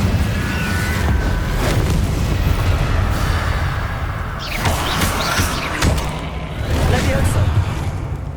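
Incendio fire spell blasts in Hogwarts Legacy, a roaring whoosh with heavy booming bursts, the sharpest two a little apart midway, over constant game noise with a voice present.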